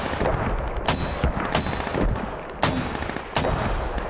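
Mortar rounds land in a military video game, several sharp booming impacts spaced about a second apart over a continuous rumbling battlefield background.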